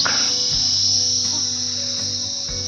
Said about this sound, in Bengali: চারিদিকে শুধু নিস্তব্ধ ঝিঝি পোকার ডাক